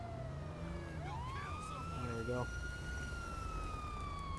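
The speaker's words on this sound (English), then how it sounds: "We'll shut our siren off." A police car siren in the video game LSPDFR wails, sweeping up and holding steady, fairly loud over a low engine rumble, with someone speaking briefly partway through.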